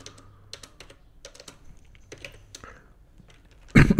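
Rapid clicking of computer keyboard keys as a command is typed on a Windows 10/11 PC, sparse separate keystrokes spread across the moment, ending in a louder burst of quick taps, close and with no talking.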